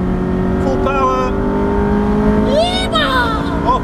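Ferrari F430 accelerating hard on a track, close engine roar climbing steadily in pitch while a person speaks over it.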